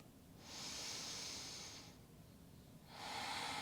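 A slow, steady yoga breath during a vinyasa flow, a long airy inhale or exhale that swells and fades, a pause, then the next breath rising again, close and soft with no talking.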